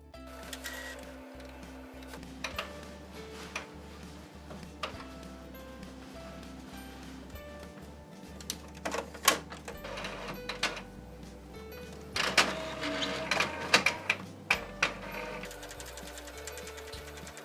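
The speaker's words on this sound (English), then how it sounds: "Then, select high as quality. Since we're using a sticker paper, we don't need to reverse our image before printing it out. Then finally, press the print button." An inkjet printer prints a design onto sticker paper, with mechanical whirring, repeated carriage shuttling and sharp clicks and clunks of paper feeding, moderately close and alone.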